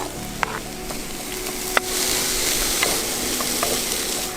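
Vegetables fry in a pan during camp cooking on a high plateau in Ethiopia. A steady, close sizzle runs throughout, broken by a few sharp clicks of a utensil against the pan.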